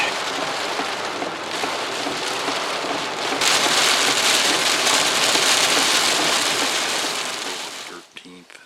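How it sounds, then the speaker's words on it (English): Heavy rain pours down steadily in a swamp, a loud dense hiss that swells midway and then tapers off near the end. "second downpour tonight"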